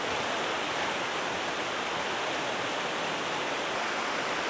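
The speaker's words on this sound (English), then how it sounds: "Here you can see a lot of the white water for the chutes." White water rushing down rock chutes at Johnson's Shut-Ins, a dense, steady roar heard alone with no voices.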